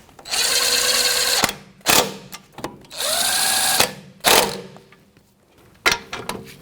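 A power tool with a 13mm socket whirs in two sustained bursts while snugging up a bolt on the ABS sensor bracket of a 2007-2017 Jeep Patriot's front strut, each run ending with sharp clunks and clicks.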